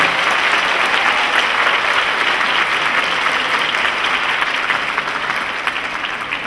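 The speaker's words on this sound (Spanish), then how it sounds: "Le vamos a dar un aplauso" Sustained applause from an audience at an institutional award ceremony, a dense, even wash of clapping that holds steady and fades slightly at the end, with no speech over it.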